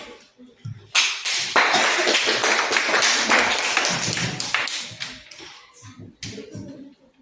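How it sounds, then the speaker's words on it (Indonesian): A classroom audience claps for a group of student presenters, a burst of many hands that swells loud and dense, then thins into scattered claps near the end. "Tepuk tangan untuk kelompok"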